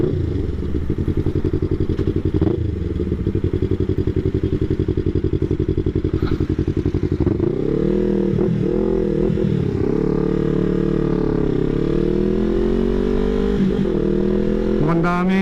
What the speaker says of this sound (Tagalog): Mukhang daming motor ngayon ah.